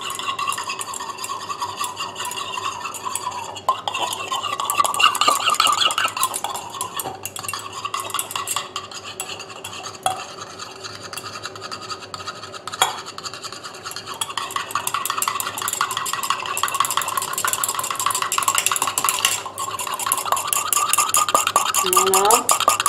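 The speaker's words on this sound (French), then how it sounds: "Et je vais verser doucement la phase aqueuse dans la phase huileuse. Et je remue." A homemade nourishing night cream being stirred steadily while the water phase is slowly poured into the oil phase, giving a loud, continuous scraping and clinking of a utensil against the container, close up and without talk.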